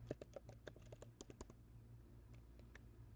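Quick bursts of keystrokes on a computer keyboard during a Canva search, a brisk cluster of close clicks early on and then a few sparse taps, with no talking.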